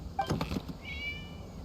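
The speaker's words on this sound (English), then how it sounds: "It was just a cat." A cat meows in a video game scene: a short, clear high-pitched cry near the start, followed by a faint drawn-out tone over quiet background ambience.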